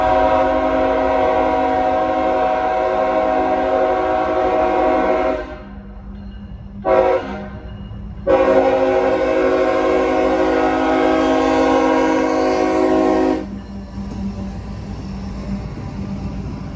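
A CSX freight train rolls past up close with a loud, sustained multi-tone horn that cuts out briefly, returns with a short blast, then sounds again over the steady rumble and clatter of the wagons.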